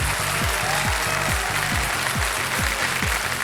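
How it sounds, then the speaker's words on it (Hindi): A studio audience on the KBC game show, season 13, claps steadily in a dense, loud wave of applause with a regular rhythmic pulse running through it. "जनता जो है वो थोड़ी सी गंभीर हो गई है, ज्यादा ताली जोर से बजा नहीं रहे हैं।"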